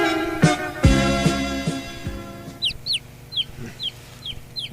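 Chickens cluck and a rooster calls in short bursts with a few high chirps near the end, set behind loud thumps and rustling at the start of a rural household scene.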